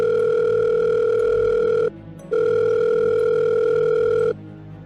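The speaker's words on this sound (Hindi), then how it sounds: "उसने विपुल का फोन लिया और सागर को कॉल लगाया।" Telephone dial tone heard close and loud as a call is placed, a steady two-note hum that cuts off briefly and resumes before stopping again.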